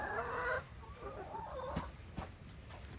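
Free-range chickens on a farm clucking nearby, with a burst of hen calls at the start and softer scattered clucks and rustling after.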